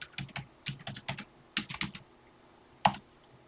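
Keys tapped on a TI-99/4A home computer keyboard during BASIC entry, short clustered bursts of clicks with pauses between and one sharper final keystroke, close and fairly quiet with no talking.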